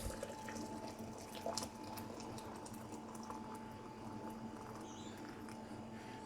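Steady trickling and gurgling of just-boiled water being poured from a jug into a coffee press, continuous and close, with a faint hum in the background.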